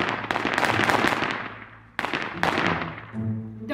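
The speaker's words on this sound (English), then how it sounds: "Look at Jalilah over here trying to light some firecrackers." A string of firecrackers pops in rapid crackling bursts at a Fourth of July celebration, then stops briefly before two more sharp loud bangs and crackles follow, close by.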